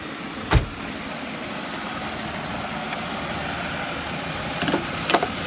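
A 1998 Buick Regal idling steadily with the air conditioning running, a low, even engine hum with a few faint clicks and knocks over a constant background.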